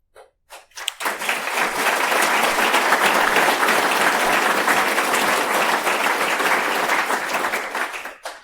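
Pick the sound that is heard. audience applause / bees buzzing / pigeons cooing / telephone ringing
audience applause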